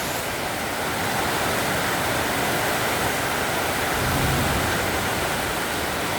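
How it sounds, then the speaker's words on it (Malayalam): Heavy rain pours down steadily while runoff streams off the roof in a dense, continuous roar, loud and unbroken throughout. "ശക്തമായ മഴയാണ്, നല്ല മഴ. അതിൻ്റെ വെള്ളം മേൽക്കൂരയിൽ നിന്ന് നല്ല രീതിയിൽ കളക്റ്റായി പുറത്തേക്ക് തള്ളുകയാണ്."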